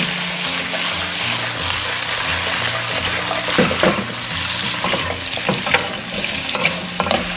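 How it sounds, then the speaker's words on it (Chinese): Pork ribs are stir-fried in dark bubbling caramelized rock sugar in a wok, giving a loud steady sizzle with scraping and stirring noises that grow busier toward the end. "我们下入排骨翻炒"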